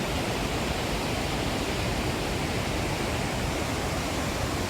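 A steady, dense roar of rushing water, loud and unbroken, like a heavy torrent pouring through four opened gates of Hatnur Dam in Jalgaon during rain.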